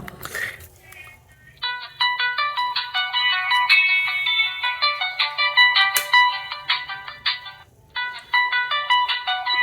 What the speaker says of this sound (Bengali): প্রথমে আমরা রিংটোনটা একটু দেখে নিই